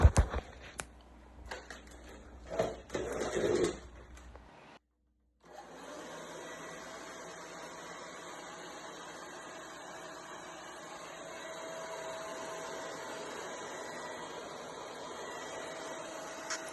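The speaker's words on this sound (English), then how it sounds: "Let's see if it can vacuum this little biscuit that I've put on the kitchen ground." A few clicks and handling noises, then a brief pause before the small motor of a Bosch BBHMOVE4 cordless stick vacuum with a stopped brush whirs up to a steady, high-pitched drone that keeps running on a kitchen floor.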